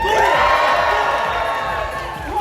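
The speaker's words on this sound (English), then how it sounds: "So let's give it up and give her a really big round of applause just to really, really get the experience." A live art battle crowd in London cheers and whoops loudly for a painter named Hannah, bright shouting voices and cheers swelling close by with little clapping evident.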